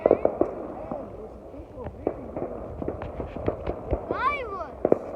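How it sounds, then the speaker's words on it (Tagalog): New Year fireworks at a family celebration crackle and pop in scattered sharp bangs from near and farther off, with whistling rockets rising, while people talk nearby. "Fireworks."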